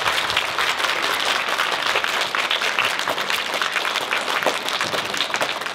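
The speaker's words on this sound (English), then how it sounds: "So the biggest round of applause to you" Audience at a fourth-grade school concert applauds loudly and steadily, a dense wash of many hands clapping that fills the whole stretch without a break.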